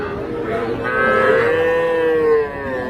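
A cow lows at the Ambari calf market in Parbatipur, Dinajpur: one loud, close moo that rises and holds for about a second and a half, then fades out.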